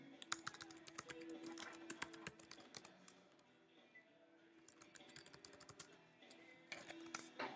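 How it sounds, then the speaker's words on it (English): Rapid clicking keystrokes on a computer keyboard come in two quiet bursts with a short pause between them, close and soft with no talking. "I can't talk and type at the same time"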